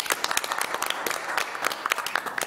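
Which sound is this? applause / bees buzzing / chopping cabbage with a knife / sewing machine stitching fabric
applause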